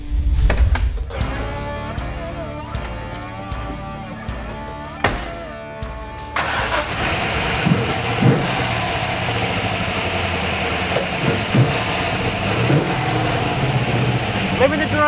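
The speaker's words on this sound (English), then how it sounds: "Mick Swartz's wild DJR V8 supercar powered XR GT Falcon." DJR V8 supercar-powered Ford XR GT Falcon with a 347-cubic-inch engine, eight throttle bodies and over 600 horsepower, a loud, rough engine rumble close by that grows fuller midway, with people talking over it.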